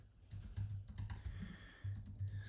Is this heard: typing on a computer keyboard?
yes